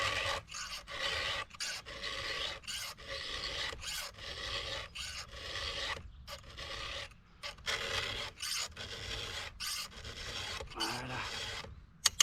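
A hand file rasps across the teeth of a STIHL MS 462C chainsaw chain in the field, repeated even strokes with short pauses between, close and fairly loud, with a couple of sharp clicks at the end.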